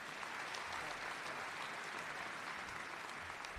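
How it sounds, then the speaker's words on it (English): Steady applause from a crowd at a high school graduation, a dense patter of clapping that holds at an even level throughout. "Yes, round of applause."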